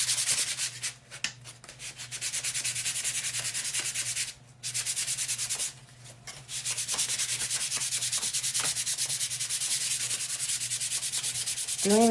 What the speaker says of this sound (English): I should have sanded it and I did not. So I'm going to do that real quick.